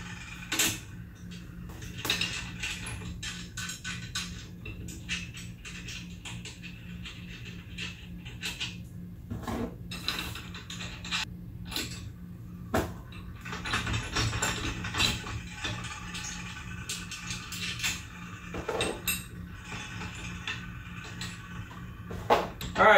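An 11/16 wrench works loose bolts on a one-color, one-station screen printing press, producing scattered close metallic creaks, ratcheting clicks and clanks with quiet gaps between, and no talking.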